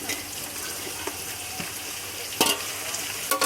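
Onions and tomatoes sauté in a pan for chicken biryani, with a soft continuous sizzle and a few brief louder stirring scrapes near the end.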